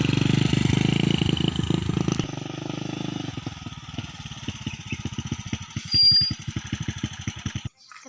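An old, worn-out motorcycle engine sputters with rapid uneven putt-putt pulses, loud at first, then thinning into irregular popping before cutting out abruptly near the end.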